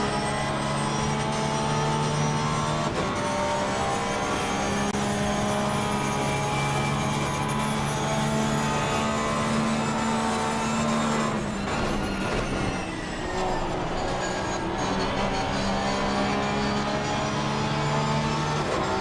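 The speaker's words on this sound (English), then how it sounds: "let's have a listen to George's Porsche as it roars into life here" A Porsche race car in a sim racing endurance race at Bathurst's Mountain Straight roars with a loud, sustained engine drone, steady throughout with a brief dip in pitch partway, and no talk over it.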